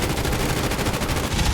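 B-17 Flying Fortress machine guns in the DCS flight simulator firing a rapid continuous burst to empty the ammunition, loud, close and evenly rhythmic for its whole length.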